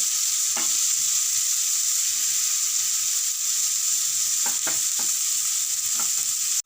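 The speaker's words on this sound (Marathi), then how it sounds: "हा कांदा आपला लालसर झालेला आहे आणि त्यात कढीपत्ता आणि मिरची पण छान झालेली आहे" Onions sizzle in hot oil with curry leaves and chillies while being cooked for sweet corn upma. A loud, steady hiss runs throughout, and a few quick stirring scrapes cluster near the end, with no voices.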